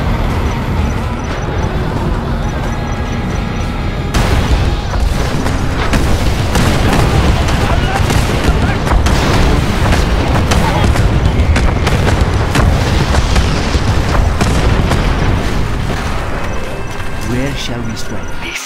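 Scud missile strikes in the Command and Conquer Generals video game boom continuously through a dense, loud battle mix of explosions and rumbling vehicles, with game voice lines over the din.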